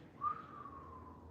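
A soft, gentle whistle imitated by a single voice, a thin sustained tone that rises briefly then holds faint and steady for about a second over a quiet room.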